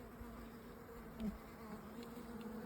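Honey bees hum steadily around an open beehive during a pollen check, a soft continuous drone close by with no talk.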